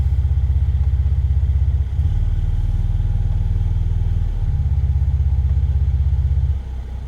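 A Mercedes SL 400 AMG Line idles with its sports exhaust, giving a deep, steady, close burble. The low drone shifts pitch slightly as the drive modes are switched, then drops away near the end.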